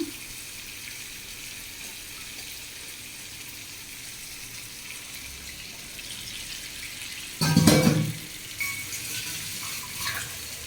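Water poured into a spice mixture while cooking a Konkani brinjal dish: a short, louder splash and gurgle about two-thirds of the way through, followed by a quieter trickle against a low kitchen background.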